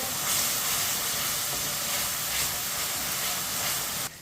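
Onions frying in a pan for chicken bhindi, a steady broad sizzle and hiss held at even loudness close by, cutting off abruptly at the end.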